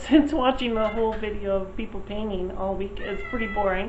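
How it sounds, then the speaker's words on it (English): A chatty male cat meows repeatedly in an antique mall, its drawn-out, wavering cries tangled together with a person's steady narration close to the mic. "Oh, that's the cat."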